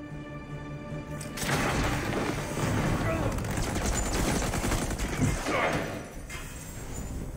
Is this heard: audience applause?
no